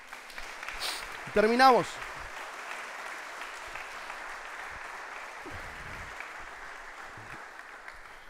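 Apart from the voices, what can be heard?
applause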